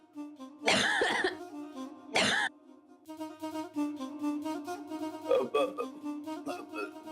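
Two people cough together in a family home, harsh close bursts that come in two strong early fits, then a longer run of smaller overlapping coughs and throat sounds.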